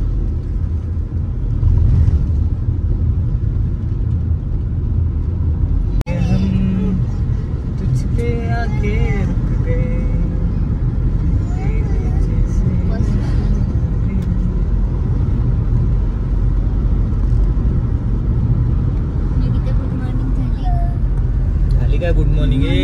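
A car drives along a foggy road on the way to a village in Ratnagiri, a steady low road rumble running throughout while voices talk over it.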